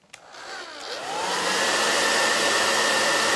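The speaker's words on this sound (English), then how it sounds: "Let's grab our blow dryer." A blow dryer switched on and ramping up to a steady loud whoosh of air, used to warm an eyelash curler, with no talking.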